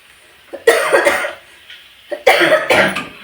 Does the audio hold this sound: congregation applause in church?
no